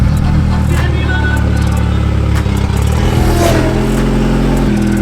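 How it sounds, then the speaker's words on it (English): Subaru engine revving in a garage, a loud close rumbling idle with rattly clatter that climbs briefly in pitch midway before settling back. "Rev it!"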